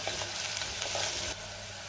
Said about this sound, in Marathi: आलं लसणाची पेस्ट सुद्धा मी 1 मिनिट परतून घेणार आहे।